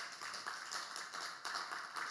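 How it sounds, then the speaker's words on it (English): Audience applause at a conference panel on global technology development, a quiet, even patter of many hands clapping at a distance and continuing steadily throughout. "feel free to applaud at our end."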